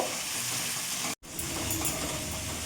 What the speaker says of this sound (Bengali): এখন আরও 2-3 মিনিট একটু কষিয়ে নেব